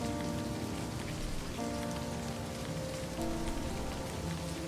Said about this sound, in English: Raindrops splatter on the paper,